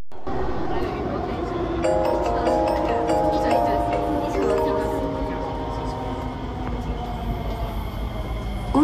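An East West Line MRT train at Outram Park station rumbles steadily at the platform, with a door chime ringing out and a recorded announcement voice playing over the rolling train noise throughout.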